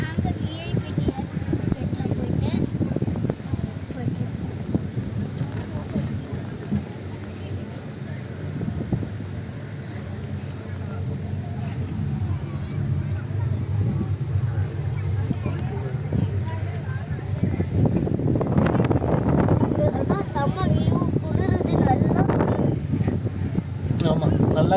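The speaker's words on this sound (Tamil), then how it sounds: "ஆமாம், நல்லா காற்றடிக்குது வியூவர்ஸ்." Strong wind with rain at Malampuzha ropeway station in Kerala makes a constant rumbling buffet against the microphone, heard the whole time beneath people talking.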